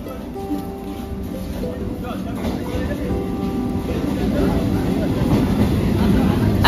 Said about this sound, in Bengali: দেখতে দেখতে কিন্তু চলেও এসেছে আমাদের ট্রেন